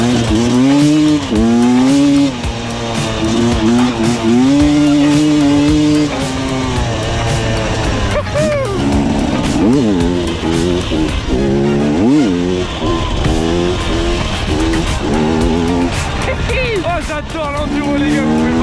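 An enduro motorcycle engine runs hard nearby, its pitch climbing and dropping repeatedly as the throttle is worked, loud and buzzing for the whole stretch.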